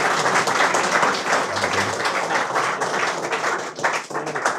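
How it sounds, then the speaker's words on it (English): A meetup audience at a DevOps and AI event claps for a presenter, producing dense, sustained applause from many hands across the room that lasts several seconds and thins slightly near the end. "So give a hearty applause for our presenter today."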